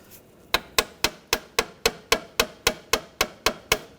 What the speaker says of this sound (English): Just tap it with a hammer.